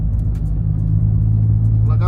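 An 8th generation Honda Civic drives along with a deep, steady engine rumble and low droning road noise from inside the car, continuous and loud, with faint higher sounds briefly near the end.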